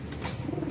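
Racing pigeons in a breeding loft, inbred birds kept as breeders, coo softly in the background, a low steady murmur of cooing with faint rustling throughout the short moment.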